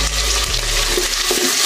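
Chopped onion and cumin seeds sizzle in hot mustard oil, a steady loud frying hiss with bubbling crackle throughout, no voices.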